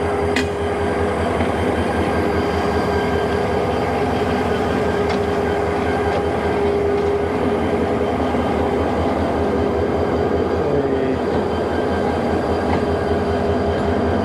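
The Bijoy Express with locomotive 2926 moving its coaches near Gauripur station in Bangladesh, heard as a continuous loud rumble and rolling clatter close by, steady throughout with no talking.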